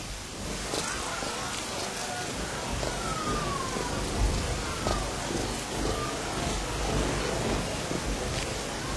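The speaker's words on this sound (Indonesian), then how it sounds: "Lihat hujan ini." Steady rain pours down, a dense continuous hiss with scattered drops, with faint indistinct sounds underneath.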